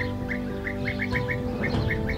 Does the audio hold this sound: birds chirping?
yes